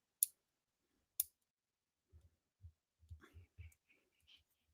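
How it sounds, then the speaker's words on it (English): Keyboard tapping during a live trivia stream, heard as a few sparse, faint clicks followed by a quicker cluster of soft taps close by, with no talking. "You can hear the tip tapping of the keyboards."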